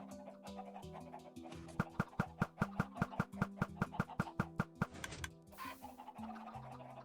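Chickens in a video game farm cluck in a quick, steady run of sharp repeated pulses over a low droning background, then trail off into a softer mix.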